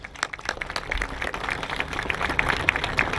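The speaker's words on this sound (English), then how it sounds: "So a round of applause for them as well." An outdoor crowd at a fountain day event claps, producing a short, dense wash of applause that stays fairly loud and steady throughout.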